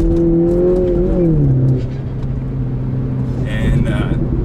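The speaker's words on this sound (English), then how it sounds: "pop it into sport, go down into second gear, and do a quick pull for you" Mini Cooper S fitted with a CravenSpeed cold air intake pulling hard in second gear in sport mode, engine note rising then settling into a steady drone, loud and close with a burst of higher noise near the end.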